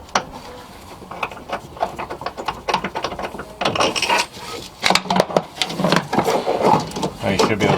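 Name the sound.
ratchet removing a bolt from Volkswagen engine mount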